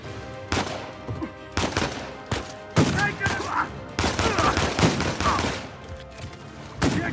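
Gunfire crackles in Uncharted 4 during a fight against snipers: repeated sharp shots and rapid bursts, loud and close, coming in clusters with brief lulls between them.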